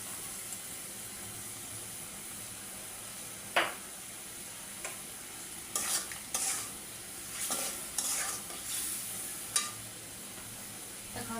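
Vegetables stir-fried with soy sauce and ground black pepper give a steady, soft sizzle, with occasional louder scrapes and clinks of a spatula against the pan, and no voices.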